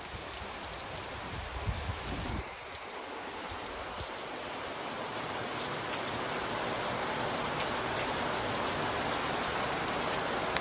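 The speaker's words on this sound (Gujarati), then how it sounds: "એકદમ ધમાકેદાર, ધુઆધાર, ધોધમાર મેઘરાજાની એન્ટ્રી જોઈ લો." A heavy downpour pounds a cotton field standing in knee-deep water, a dense, steady hiss of rain that swells and holds loud across the whole stretch, with no voices.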